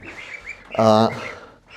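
Shrill peeping from chicks and goslings, with a loud burst of rapid cheeping in the middle, close by over a murmur of background voices.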